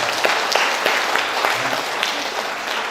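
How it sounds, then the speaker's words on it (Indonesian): At a religious gathering, a crowd applauds a visiting Islamic teacher with a brief, dense burst of steady clapping heard close by. "Tepuk tangan Ustaz."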